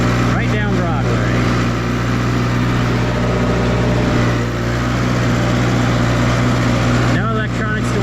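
A sprayer working a non-GMO soybean field, its engine held at steady RPM in one gear, drones loudly and continuously close by throughout.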